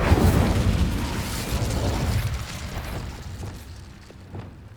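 An Incendio fire spell in the Hogwarts Legacy video game bursts with a loud, rumbling whoosh that slowly fades and thins out over several seconds.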